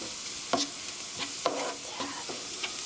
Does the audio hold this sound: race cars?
no